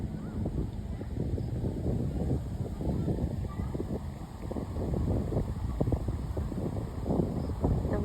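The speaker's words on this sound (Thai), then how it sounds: "ลมเย็นดีจัง" Wind blowing beside a lake on a walking path in Bangkok; steady, loud rumbling gusts across the microphone throughout, with no clear voices.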